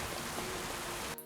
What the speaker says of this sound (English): Sure is raining.